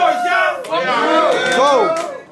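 Crowd at a rap battle in New York yelling and cheering in loud, rising and falling shouts, close and energetic, running almost continuously for a couple of seconds.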